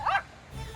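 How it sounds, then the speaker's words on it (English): A small dog gives a loud, sharp bark or yip near the start, followed by a quieter stretch and some faint low rumble. "I don't know how a small dog can be so loud."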